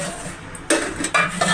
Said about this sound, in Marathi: आपली डाळ अशी चांगली शिजवून झालेली आहे. त्याला मी टोपामध्ये काढून घेते आहे